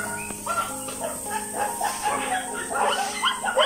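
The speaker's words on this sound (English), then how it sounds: "There's a lot of dogs here." Many dogs at a stray dog shelter in China bark, yip and whimper over one another in a busy, overlapping chorus heard up close, with some background hiss.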